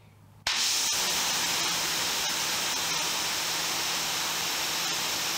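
Greenworks 1700 pressure washer firing water through a 1.0 orifice nozzle: a sudden start into loud, steady broadband spray hiss with a faint motor hum beneath, running continuously without talk.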